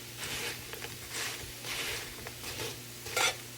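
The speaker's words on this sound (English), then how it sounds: "The way you get them to stay like this when you're frying them is don't move them very much." Potatoes fry in a pan, a soft close sizzle that swells and fades in uneven bursts, with faint scraping stirs and no speech.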